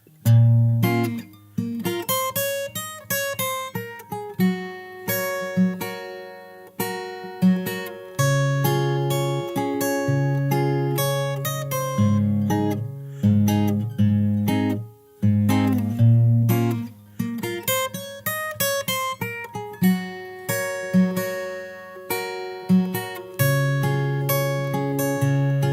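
Solo fingerstyle acoustic guitar plays the full verse of a song, a continuous rhythmic pattern of plucked bass notes and chords, close and clear with no voices.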